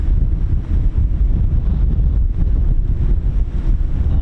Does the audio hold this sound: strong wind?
yes